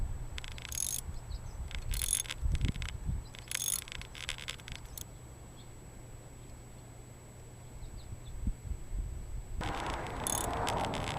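Ratchet with a 10mm socket loosening throttle body bolts on a 1997 Saturn SC2, several short bursts of quick, faint clicking separated by pauses over a low steady hum.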